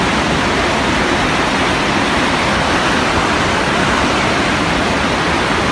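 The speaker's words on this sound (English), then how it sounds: "That's the emergency spillway. It's going stronger than it has been." Torrents of water roar down the Oroville Dam emergency spillway in California during heavy rain and snowmelt, a loud, steady, broadband rush that fills the whole stretch with no pauses and no voices.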